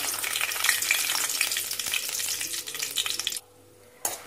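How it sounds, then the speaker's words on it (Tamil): Dried red chillies crackle in hot oil for an omelette gravy, a loud, busy sizzle with small stirring clicks that suddenly cuts out near the end, then briefly flares again. "இதில் வத்தல் போட்டுருங்க"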